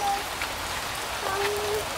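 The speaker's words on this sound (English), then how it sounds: "Oh, it's raining." Steady rain falls outdoors as a soft, continuous hiss, with faint thin tones drifting above it and no voices.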